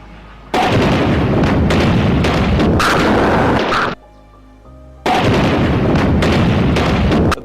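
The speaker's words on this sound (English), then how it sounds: "FAPLA fought back tenaciously, using the deadly 23mm cannon in a ground support role." A 23mm cannon fires in the field, loud sustained bursts of rapid booming shots with rumbling echoes. A short quiet gap falls in the middle before the firing resumes.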